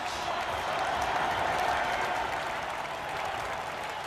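A large crowd at a political rally applauds steadily, a dense, even wash of clapping that holds throughout with no break.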